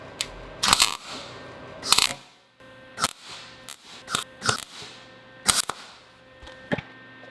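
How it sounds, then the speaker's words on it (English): A steel boat trailer tongue is welded slowly in short bursts, each a crackling sizzle lasting a fraction of a second, repeated about a dozen times with quiet gaps between, close by and fairly loud. "Now I'm going to very carefully weld this up."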